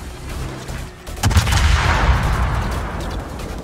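Warship guns firing in the naval battle game World of Warships during a clan battle: a heavy, booming salvo bursts out and rumbles on with layered blasts and a long, rolling decay.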